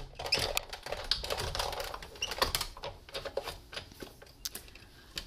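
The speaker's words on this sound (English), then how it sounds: "Then I'm going to run this through the Big Shot." Big Shot die-cutting machine cranked by hand to feed cardstock through a metal die, producing soft, irregular clicks and ratcheting taps over a quiet rustling background.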